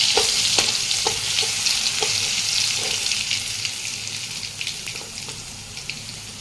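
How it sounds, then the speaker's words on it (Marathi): Ginger garlic paste frying in ghee for chole masala, a steady close sizzle with occasional stirring scrapes and light taps, continuous and slowly easing off toward the end. "अद्रक लसूणची पेस्ट तुपामध्ये व्यवस्थित भाजल्यामुळे त्याला फ्लेवर छान येतो"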